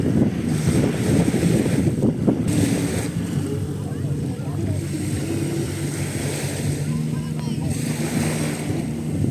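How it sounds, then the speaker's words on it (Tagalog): Steady sea breeze rushes across the microphone at a beach shore near sunset, with moderate waves washing underneath in a constant, fairly loud wash of noise. "Ganda ng simoy ng hangin, malamig, katamtaman yung alon"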